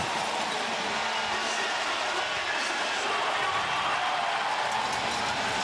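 Stadium crowd at Mosaic Stadium roars during a CFL game between BC and Saskatchewan, a dense, continuous wall of cheering noise that stays loud and steady throughout, with a voice faintly beneath it.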